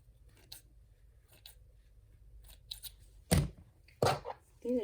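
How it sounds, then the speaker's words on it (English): Applique scissors snipping fabric thread ends close by: a few soft, sparse clicks, then two louder sharp cuts near the end over a low background hum. "I'm just going to cut those ends"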